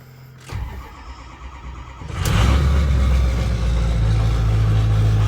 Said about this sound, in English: We're going to get a little cold start.